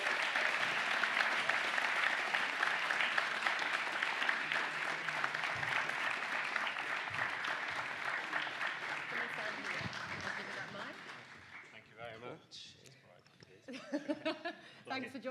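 Loud, sustained audience applause fills a student awards ceremony hall for the event sponsors, steady and dense at first, then thinning out and tapering toward the end as the clapping fades into scattered sounds.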